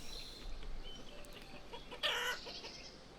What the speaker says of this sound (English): Right, it's time for the chicken march.